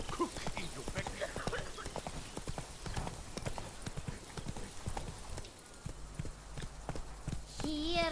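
Roach the horse trots in The Witcher 3: Wild Hunt, Blood and Wine, steady clip-clop hoofbeats repeating close by for the whole stretch, with game sounds and a brief voice layered over them.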